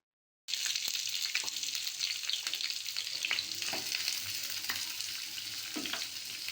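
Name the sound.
sautéing chopped onions in oil in a pan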